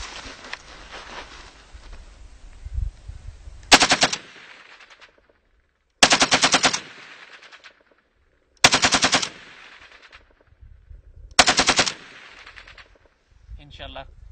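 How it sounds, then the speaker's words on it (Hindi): Light machine gun firing on automatic at an outdoor firing range, with four loud, sharp bursts of rapid fire separated by short silences and an earlier stretch of fainter shooting. "अब ये लाइट मशीन गन बन गई है।"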